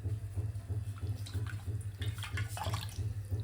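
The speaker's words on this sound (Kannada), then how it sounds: "ಹಿಟ್ಟಿಗೆ ನೀರು ಹಚ್ಕೋತಾ ಇದ್ದೀನಿ" Wet hands pat water onto jowar roti dough in a North Karnataka kitchen, making a steady, rhythmic damp slapping sound over a low background hum.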